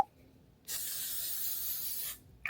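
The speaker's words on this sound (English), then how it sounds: "I gotta get my finishing spray" A makeup finishing spray gives one steady hissing burst lasting about a second and a half, close and fairly quiet, with a faint click at the end.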